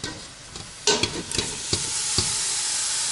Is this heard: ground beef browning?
yes